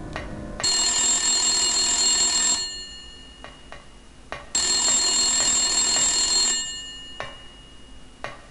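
A telephone rings in the Silent Hill video game, two long bright electronic ring bursts separated by a pause, loud and alone with no talk over it.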